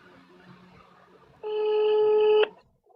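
A single electronic telephone ringing tone sounds for about a second, loud and steady, after a stretch of faint, murmured background noise.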